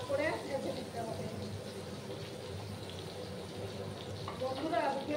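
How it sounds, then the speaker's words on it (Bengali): Eggplant pieces fry in oil for a Bengali vegetarian dish, giving off a soft, steady sizzle that stays low and continuous throughout. "বেগুনগুলোকে একটু লাল লাল করে ভেজে নেব।"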